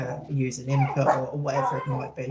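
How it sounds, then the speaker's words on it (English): A dog barks and whimpers with short yips in the background, heard under continuous close speech from a person talking throughout. "Excuse the dog, sorry about that."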